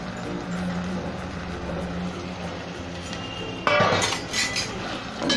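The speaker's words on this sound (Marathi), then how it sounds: "आता आपण त्याच्यात ह्या सगळ्या भाज्या टाकूया. फरसबी, गाजर, फ्लावर, वाटाणे हे सगळं टाकून घेऊया त्याच्यात." Green beans, carrots, cauliflower and peas tipped into a hot pan of oil for vegetable pulao: a steady kitchen background, then a sudden close clatter and sizzle as the vegetables land and are stirred.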